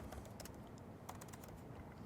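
Rapid clicking of keys while typing on a computer keyboard, a quick irregular patter of close keystrokes that comes in short bursts.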